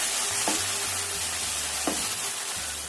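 Kucai (garlic chives) stir-fried in oyster sauce in a pan give a steady loud sizzle, broken by a few scraping stirs of the spatula, with no talking.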